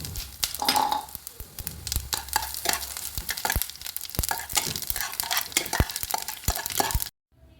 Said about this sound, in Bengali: এবার অল্প তেল দিয়ে মশলাটাকে ভেজে নেব।